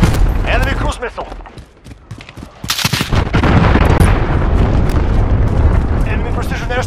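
Heavy explosions and rumbling blasts from an enemy cruise missile strike in Call of Duty Modern Warfare online multiplayer, building into a loud, sustained roar after a brief lull, with a voice callout over the chaos.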